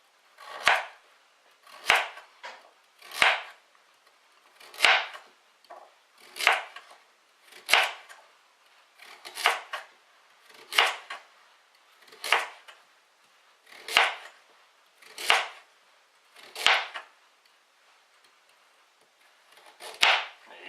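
A knife chops a carrot into chunky pieces for Icelandic lamb soup, each cut a crisp, close thud on the board, about fifteen evenly spaced chops in a slow steady rhythm with quiet between, no voices.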